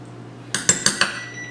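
A metal utensil taps a Corningware dish of lentil casserole four times in quick succession, bright clinks standing out close and clear over a low steady hum, then the room falls quiet.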